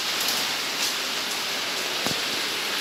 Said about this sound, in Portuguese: a chuva agora engrossou